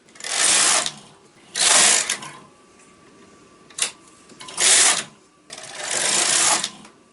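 A knitting machine carriage is pushed back and forth across the needle bed, each pass making a broad mechanical whir-and-rattle; four or five strokes come close and loud, separated by short pauses with one brief click between.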